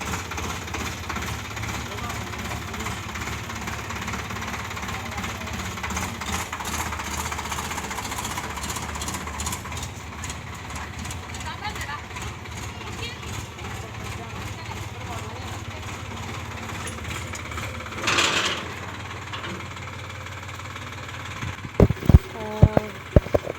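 A tractor engine runs steadily on a rural farmstead, a continuous rumbling chug with vibrating knock, close and fairly loud, with people talking over it and a few sharp clatters near the end.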